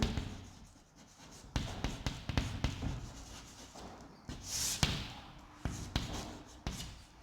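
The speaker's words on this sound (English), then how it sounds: "So I will just write the steps directly" Chalk or marker strokes tapping and scraping on a board while equation steps are written out, with sharp irregular knocks and short scratches close by, no voices.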